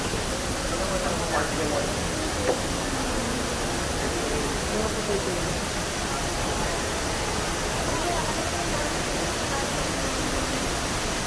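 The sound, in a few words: indoor waterfall inside Dubai mall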